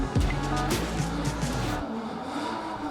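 A Nissan Skyline R34 race car at a motorsport festival, loud engine roar with a rising rev and tire squeal, the note dropping away after under two seconds as it passes, leaving fainter track noise.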